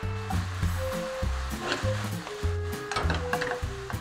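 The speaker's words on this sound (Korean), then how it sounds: "볶아주시면서 양념장을 넣어주겠습니다." Udon noodles and cabbage stir-fry in a pan with sauce, giving a steady close sizzle broken by the scrape and rustle of stirring; no voices.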